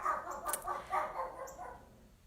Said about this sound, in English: this barking might be going on for a while